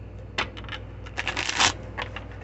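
Tarot cards being shuffled up close in several quick riffling and sliding bursts, soft papery flutters with brief pauses between them.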